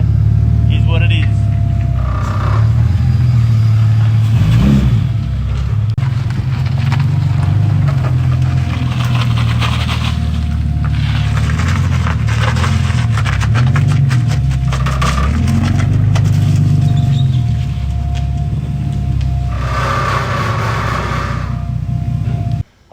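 Car being driven in, a loud steady engine rumble that rises and falls through the drive, with a person talking over it for much of the time.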